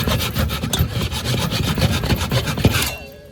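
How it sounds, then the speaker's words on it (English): A hand saw cuts through wood in fast, steady back-and-forth strokes, loud and close, with rasping cuts continuing for about three seconds before stopping. "the normal hand saw. It cuts both ways and quick."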